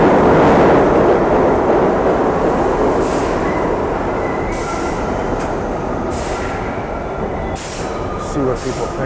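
A New York City subway train runs loudly underground, with a dense rumbling roar, clattering wheels and faint intermittent squeals, continuous throughout and slowly easing in level.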